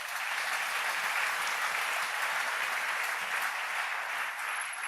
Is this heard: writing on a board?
no